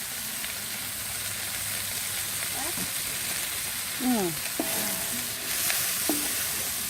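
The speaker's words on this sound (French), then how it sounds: "on va rajouter un peu d'huile d'olive, c'est très important dans la paella" Olive oil sizzles and fries in a paella pan outdoors, with a steady, soft crackle and occasional utensil scrapes and stirring sounds. Moderately faint throughout, with a few brief squeaky scrapes, and a person talks faintly in the background.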